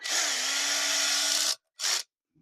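A power driver runs down a heavy duty hose clamp on engine oil lines, one sustained whirring burst of about one and a half seconds followed by a short second burst, close and loud.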